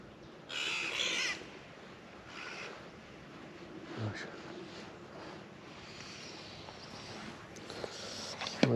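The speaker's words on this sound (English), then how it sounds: "There's a hawk getting attacked by some crows there." Crows caw harshly while mobbing a hawk near water, several separate calls at moderate distance spread through the stretch over a faint background of wind and lapping water.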